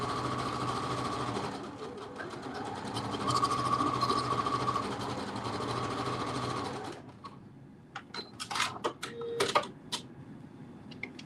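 Sewing machine running a quarter-inch stay stitch along the edge of garment fabric, a steady close mechanical whir for about seven seconds that then stops, followed by faint handling clicks and rustles.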